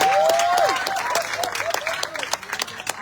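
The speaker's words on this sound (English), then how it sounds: "Let's have a very big round of applause for Pastor Karl." At a church camp session, an audience gives a pastor a big round of applause: loud clapping with a whistle-like tone near the start, thinning gradually into looser, scattered claps.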